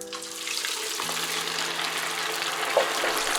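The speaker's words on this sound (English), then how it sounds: "Fry the marinated beef in hot oil for 30 seconds." Marinated beef fries in hot oil with a steady, bright hiss and sizzle that holds at an even, moderate level throughout, with a faint clink partway through and no talking.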